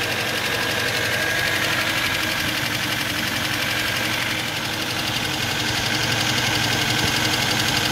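An idling carburetor car engine started by remote autostart hums steadily at close range, with a continuous rough, slightly knocking running sound throughout.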